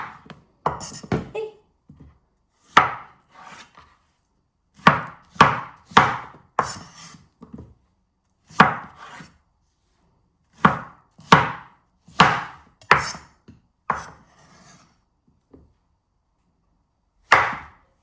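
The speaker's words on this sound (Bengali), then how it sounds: "এখানে আমার হচ্ছে পেঁপে কাটা হয়ে গেছে" A knife chops papaya on a board in a series of sharp, close thuds, some clustered in quick runs and others spaced apart, with brief pauses between.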